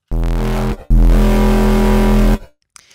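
A heavy Serum synth bass with a rounded saturation from a saturator's soft clipping, sounding two loud sustained notes with a brief pause between them.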